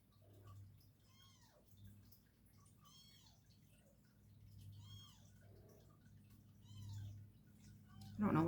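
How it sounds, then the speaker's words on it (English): Kittens meow again and again, a string of thin, high cries in short bursts spaced about a second apart, fairly faint against a quiet hum, with a louder knock at the very end. "I don't know why she brought her kittens out here."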